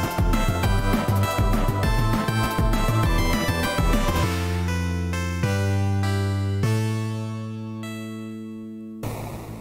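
Looping boss fight music for a Stardew Valley mod: busy layered synth notes and a driving bass give way to long sustained chords, then the loop restarts near the end, loud and alone with no talking.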